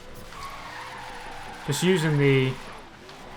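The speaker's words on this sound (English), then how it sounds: "letting the car oversteer as you change gear" A police interceptor car in Forza Horizon 3 oversteers and skids, a loud tire squeal of about a second rising over the engine hum, with a voice speaking briefly alongside.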